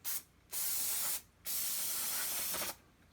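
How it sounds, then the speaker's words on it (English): Brake cleaner sprayed onto a Brembo brake caliper on a 2015 Maserati Quattroporte during a front pad change: three loud, close hissing aerosol bursts of about half a second to over a second each, separated by brief pauses, with no talk. "So we're just going to put a little bit of brake cleaner on it."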